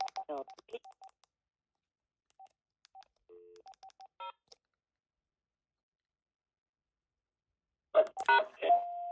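Keypad tones on a hotel room telephone: a scattered run of short beeps and one longer held press, a quiet pause, then a burst of tones and an automated-sounding signal at the end.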